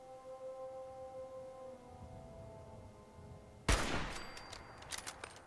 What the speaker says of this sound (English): Decide to go with the sniper rifle.